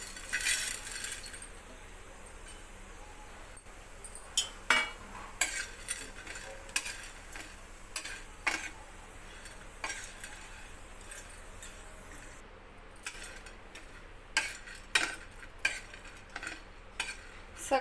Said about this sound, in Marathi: आपण आता हे सगळे जिन्नस भाजून घेणार आहोत।